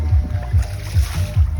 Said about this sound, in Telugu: ఇప్పుడు ఇక్కడ ఈ నదిలో ఈ పడవను నడిపిస్తున్నా.